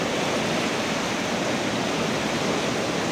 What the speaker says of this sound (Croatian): Voda nosi sve pred sobom